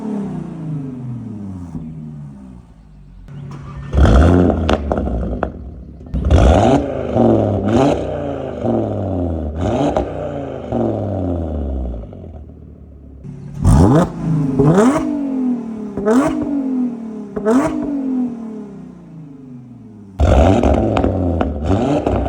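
Two cars, a supercharged V6 and a turbocharged five-cylinder, rev one after another up to around 4,000 to 6,000 rpm, with repeated rising engine roars and pauses between pulls, close and loud with no talking.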